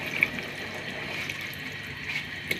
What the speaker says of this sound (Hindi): इसे हम 1 गिलास पानी डाल के